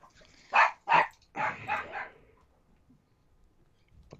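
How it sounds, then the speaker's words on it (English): A few dogs bark in quick succession, two sharp loud barks followed by a rougher cluster of barking, then the sound fades into near quiet. "Fucking dogs."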